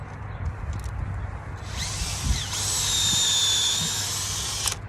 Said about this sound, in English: Start me a little hole, turn my drill bit, clean it out, do the same thing.